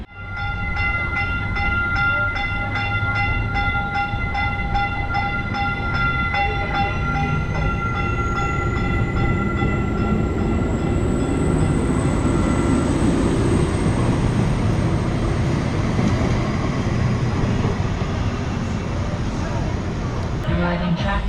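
A Dallas DART Silver Line train sits at a station with a continuous loud rumble and steady motor whine, and a high tone slowly rises in pitch partway through.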